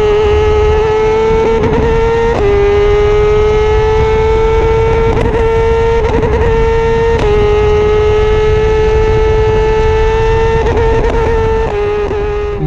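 A high-revving racing motorcycle engine in a Pirelli Cup race screams steadily, its pitch holding then repeatedly stuttering with brief cuts and dips in power from a technical fault, loud and close.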